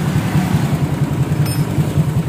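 A Honda Vario scooter engine with an SKR racing exhaust idles loudly up close with a deep, throbbing exhaust pulse in a fast, even rhythm.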